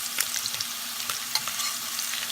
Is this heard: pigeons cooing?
no